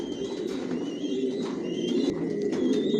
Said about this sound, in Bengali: টপ কোয়ালিটির কবুতর পালি